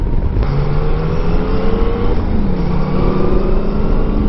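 A 2019 Yamaha Tracer 900 GT motorcycle engine drones continuously while riding, a loud, steady hum with shifting engine tones and wind rush throughout, no talking heard.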